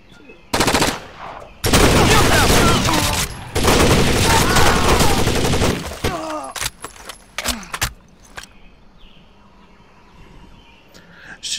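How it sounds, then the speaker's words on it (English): A light machine gun blind-fires in the tactical shooter Rainbow Six Vegas II, loud sustained bursts close by, then scattered single shots and clatter trailing off, with a voice talking briefly. "a game that lets you blind fire a goddamn, you know, basically a big ass submachine gun like that"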